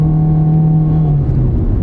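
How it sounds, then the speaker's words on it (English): A Honda car with a CVT transmission accelerates at full throttle, giving a loud, steady droning engine whine held at nearly constant pitch, with a slight dip near the end. "It's a CVT, so they make a lot of noise."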